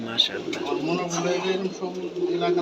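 Giribaj pigeons coo close by at a pigeon farm in Rajshahi, soft rolling throaty calls repeating over someone speaking in Bengali.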